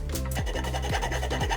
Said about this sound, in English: So sanded the pins off and added the new little troughs in the gear.